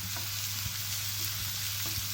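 Turmeric powder being stirred into sizzling arhar dal tadka in a pan, a steady close frying hiss with soft spoon scrapes and stirring knocks recurring throughout, under a low constant hum.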